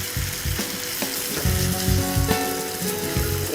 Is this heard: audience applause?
no